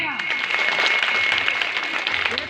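An audience at a school NCC Day drama performance breaks into steady, dense applause, many hands clapping together at moderate volume throughout, with voices faintly mixed in.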